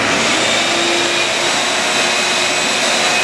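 A vacuum used to load media into a regenerative media filter runs with a loud, steady whooshing roar that stays constant throughout.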